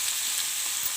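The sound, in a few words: spices frying in a pan for egg gravy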